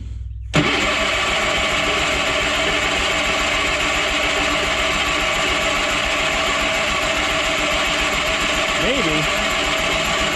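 A Bolens QT16 garden tractor engine more than ten years old cranks and catches, then runs on at a steady, loud, close idle with a constant rumbling drone; a brief spoken word cuts in near the end.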